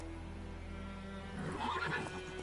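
Roach, a horse in The Witcher video game, gives a short whinny that swells in the middle of the clip over a steady low background hum, with no talking.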